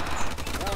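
Rapid burst fire from the ARX-160 rifle in the Call of Duty: Advanced Warfare hardcore mode, dense sharp shots rattling in quick succession, loud and close, with a voice talking over the gunfire.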